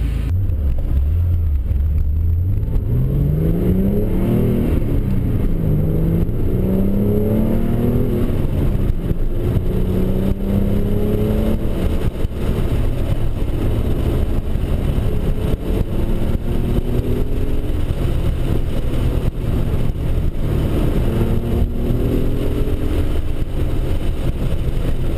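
A Porsche Targa drives curvy, hilly New England country roads, its engine droning loud and close throughout with rising and falling revs through the bends, accompanied by steady wind and road rumble.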